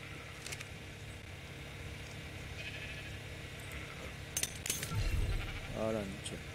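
A sheep bleats briefly near the end in the video game ARK: The Island, heard over a steady low ambient game hum with a few clicks and sharp interface sounds.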